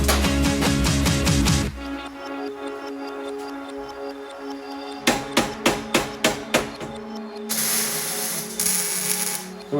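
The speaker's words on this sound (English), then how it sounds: "I'm just going to start hammering out the rest of the floor" Sharp metallic hammer blows ring out on sheet metal for a Jeep floor and transmission tunnel, first a rapid flurry, then a steady run of about seven evenly spaced strikes, loud and close.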